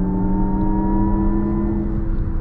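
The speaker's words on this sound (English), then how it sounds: "Lexus actually developed their own whole kind of sound experience for the new RZ" A steady synthetic electric-motor hum with layered tones rises gently in pitch, the engineered sport-mode drive sound of a 2023 Lexus RZ 450e electric car, close and continuous.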